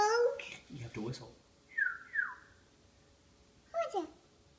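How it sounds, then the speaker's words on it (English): Short whistled notes sound in a few brief bursts, quiet and close, between a child's babbling speech. "you have to whistle."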